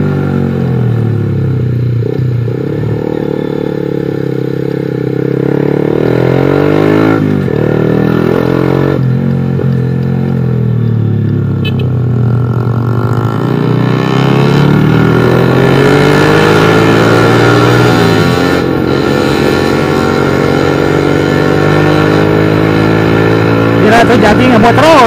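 A motorcycle in Cibinong, Bogor, ridden fast, its engine droning and rising in pitch through several gear-like surges, with a rider talking over it throughout.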